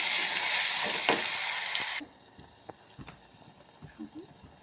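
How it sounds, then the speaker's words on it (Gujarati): Spices tempered in hot oil for a gravy, a loud burst of sizzling for about two seconds that cuts off abruptly, followed by quiet scraping and light stirring clinks. "એનો વઘાર કરીએ"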